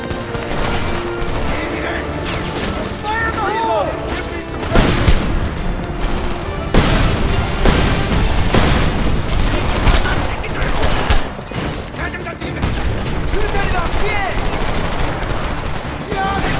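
Sustained automatic gunfire and explosions during a wall assault in the shooter Homefront, a dense, loud barrage of rattling bursts and heavy booms throughout, with soldiers shouting over the combat.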